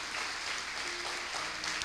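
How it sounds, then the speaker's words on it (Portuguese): A church congregation claps in a short, faint burst of steady, dense applause heard from a distance, with no clear voices over it. "Bem forte, como ele merece ser aplaudido."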